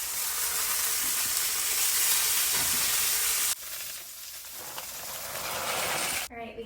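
Chicken grilling in a pan, a steady loud sizzle and hiss that dips briefly partway through, then resumes before a sudden clatter near the end.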